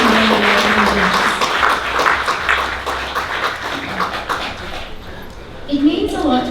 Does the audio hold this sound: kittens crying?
no